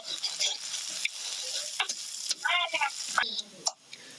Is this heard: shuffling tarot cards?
no